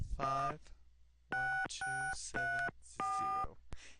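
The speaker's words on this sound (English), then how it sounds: "Alright, so 555-1270." A telephone keypad in the Gabriel Knight adventure game dials a number, a quick single tone followed by four evenly spaced steady DTMF tones and a final short click, clean and close with faint background between presses.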